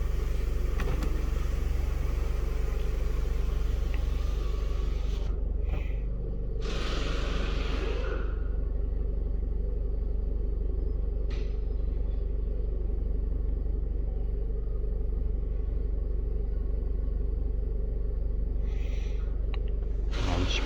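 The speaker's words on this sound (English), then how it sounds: "Now car is started." A Mercedes-Benz B-Class runs just after starting, with a steady low engine rumble throughout and a few brief whooshes, no talk.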